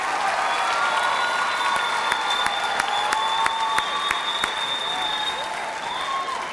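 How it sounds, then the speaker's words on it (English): An audience at a college and career pathways kickoff event applauds Governor Baker and his education staff, sustained steady clapping with a faint tonal ringing beneath and a few sharper individual claps. "So a round of applause for Governor Baker and his education staff."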